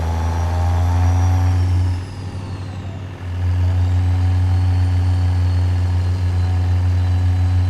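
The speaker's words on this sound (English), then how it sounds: "I wonder what it sounds like on the revved out here." A heavy truck engine, a CAT 3176A in a trucking video game, drones steadily with a strong low rumble, dipping briefly in the middle before returning to a loud, sustained high-rev tone.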